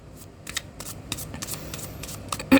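Tarot cards being shuffled by hand in a brief, quick flurry of close riffling and papery slaps, with a louder knock at the end.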